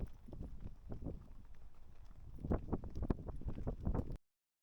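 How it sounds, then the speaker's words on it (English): A group of horses walking on a winter horse ride in Cappadocia, uneven hoof clops from several animals at moderate distance with wind noise, growing busier before cutting off. "There's another group there as well, which is doing horse riding."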